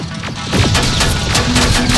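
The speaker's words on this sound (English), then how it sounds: "Under heavy fire!" Heavy gunfire rattles through a firefight in the video game Terminator: Resistance, a loud, dense barrage of overlapping shots and booms with no pause across the short stretch.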